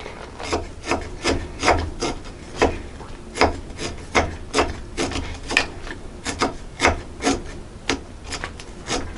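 Bamboo disposable chopstick being cut by hand, a steady series of loud, dry rasping strokes in a regular back-and-forth rhythm, close up with no talking.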